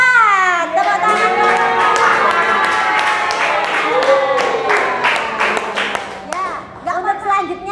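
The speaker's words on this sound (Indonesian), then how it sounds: "Tepuk tangan." Students in a classroom clap for a group presentation, a fairly loud burst of applause with distinct individual claps and overlapping voices of people talking throughout.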